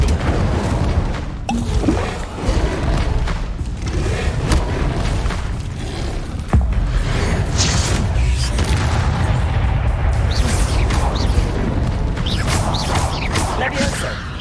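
A fire spell is cast in the video game Hogwarts Legacy: a dense, continuous roar of booming magical effects with crackling bursts, loud and sustained throughout alongside other game sounds.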